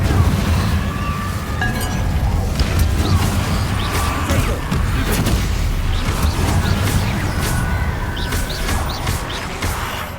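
Incendio fire spell in Hogwarts Legacy, a steady roaring, crackling burst of flame that runs loud and continuous throughout, with scattered sharp cracks and impacts layered over the rumble.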